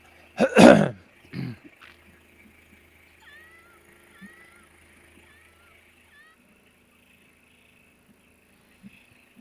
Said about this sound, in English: Why'd I just hear a cat?